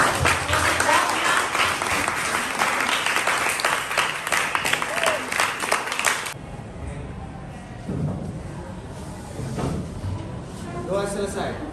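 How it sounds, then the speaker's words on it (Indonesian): A classroom group applauds loudly for about six seconds, dense clapping that then drops away into quieter room noise, shuffling and a few voices. "Tepuk tangan dulu untuk"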